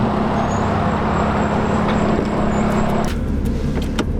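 A 2018 Lotus Evora 400 idles and rumbles at the start of a test drive, a low, steady engine hum heard from inside the car, with a few light clicks toward the end and no talking.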